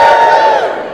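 An audience at a solstice and Christmas gathering cheers on cue, a short loud burst of crowd shouting and whooping that tapers off within about a second.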